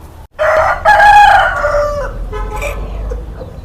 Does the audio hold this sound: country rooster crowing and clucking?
yes